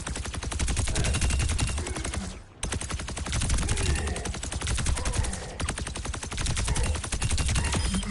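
Rapid automatic gunfire from the video game Overwatch 2, with dense continuous bursts of shots that break off briefly twice before resuming loudly.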